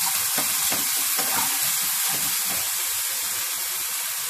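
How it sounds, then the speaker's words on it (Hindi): Mustard seeds and ginger-garlic paste fry in a hot pan as filling for spicy potato idly rolls, a steady loud sizzle with crackling pops near the start and no voices. "थोड़ी सी मैं इसमें राई डालूंगी और हमारा जो अदरक और लहसुन का पेस्ट बना है ये मैं इसमें इसी में डाल दूंगी"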